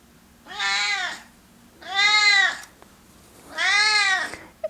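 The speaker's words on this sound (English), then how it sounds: "I'm cat sitting their cat, Midnight, whom you met in the intro." A cat gives three drawn-out meows, evenly spaced and close, with quiet pauses between them and no other sounds.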